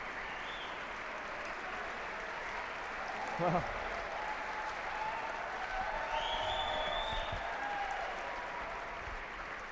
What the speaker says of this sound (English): the crowd's showing their appreciation to both players for such a great rally